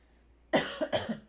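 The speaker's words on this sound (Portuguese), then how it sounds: "Estou me recuperando de um resfriado, ainda estou com um pouquinho de tosse de vez em quando" A person recovering from a cold gives a short double cough, close to the mic and sharp against a quiet background.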